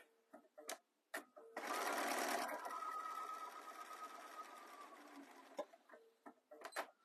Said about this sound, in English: I'm going to do a little back stitch there to secure that